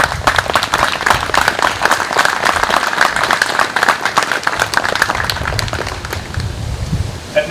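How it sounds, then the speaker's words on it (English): Applause for a high school band director at a Memorial Day ceremony, with a crowd clapping steadily and loudly throughout before thinning slightly toward the end. "Can everyone just give him a round of applause?"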